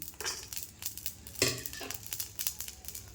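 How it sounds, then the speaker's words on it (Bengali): Whole cumin, coriander, four cardamom pods and two cinnamon sticks fry in a pan, giving a light sizzle broken by scraping stirs and a few sharp clinks of utensil against metal. "এটাকে আমি ভালো করে একটু ভেজে নেব।"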